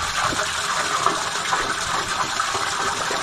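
Water streams steadily from a small tap at a roadside spring, a continuous broadband splashing gush that holds even and fairly close for the whole stretch, with no voices over it.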